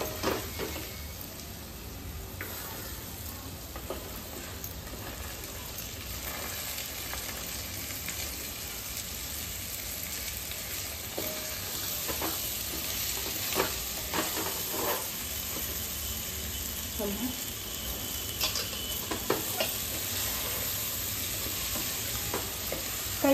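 Vegetables fry and sizzle in a brass pot for masale bhat, with a steady hiss and repeated scraping of a spoon stirring throughout.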